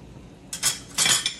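A utensil scraping and clinking against a pot of food on the stove, two short metallic strokes close up in a quiet kitchen.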